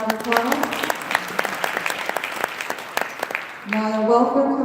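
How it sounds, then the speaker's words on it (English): Scattered audience clapping at a Women's International Day gathering at New Haven City Hall, crisp individual claps for a few seconds, then a speaker's voice takes over as the applause trails off. "give her a round of applause."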